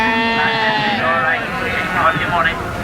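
Several sheep bleat at a livestock sale, their wavering cries overlapping and drifting closer and farther, with a voice talking beneath them.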